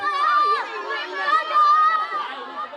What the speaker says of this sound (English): Those are kids cheering on their favorite snail.